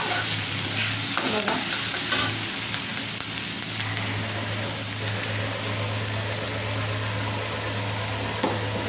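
Onion frying in a pan for a dill-leaf vegetable dish, a steady close sizzle with stirring scrapes and a low background hum throughout, no talking.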